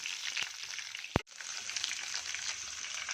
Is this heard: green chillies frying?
yes